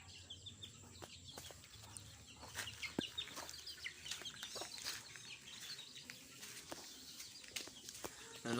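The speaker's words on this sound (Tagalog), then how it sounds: "Yung alaga natin, manok natin." Pet chickens cluck and chirp nearby in a steady scatter of short calls, fairly faint, with a louder burst at the end.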